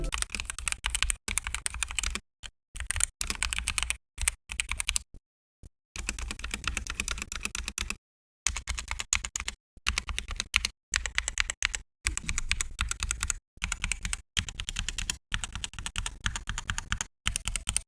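Steady, fast typing on a Proove Gaming gasket-mount mechanical keyboard with EVA foam layers, producing loud, ringing clacks in continuous bursts with brief pauses, close and alone.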